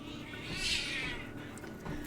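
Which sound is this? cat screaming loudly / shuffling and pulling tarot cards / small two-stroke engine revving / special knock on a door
cat screaming loudly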